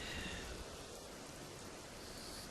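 Steady rain falling through a forest at night, a soft continuous hiss of drops on leaves and ground, faint and even throughout with no voices.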